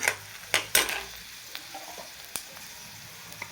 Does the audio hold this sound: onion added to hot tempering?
yes